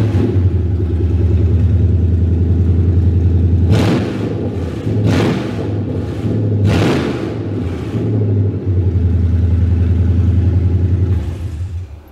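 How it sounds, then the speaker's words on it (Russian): A GAZelle van's freshly built engine running for the first time under the hood, idling with a loud, steady rumble that swells into several sharp revs before settling back to a clattery idle. "Запустили этот мотор в первый раз."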